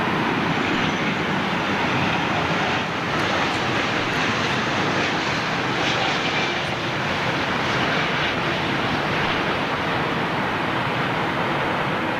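A jet airliner arrives at London Heathrow, a broad, steady roar of engines and rushing air held at a moderate level throughout, distant-sounding and uninterrupted by speech.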